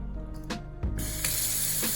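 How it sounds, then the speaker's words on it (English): Short hissing bursts of water from a pull-out kitchen faucet sprayer in an empty apartment, a few quick spurts at first and then a steadier spray running to the end, fairly quiet and close. "and this got daggone faucet. Like, to pull it out,"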